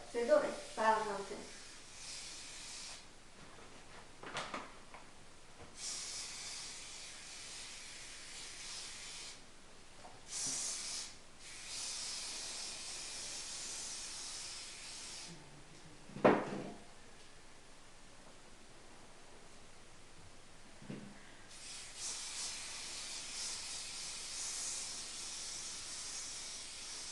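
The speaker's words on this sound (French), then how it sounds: "du spray argenté. Non, doré, c'est doré, pas argenté." Gold spray paint hisses from a can in several bursts of steady airy spray, some long and some short, for a New Year's Eve table decoration, with a voice talking softly between the bursts.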